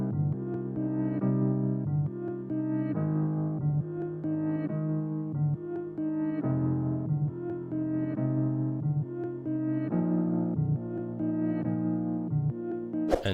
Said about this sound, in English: It's halftime and then halftime reverse,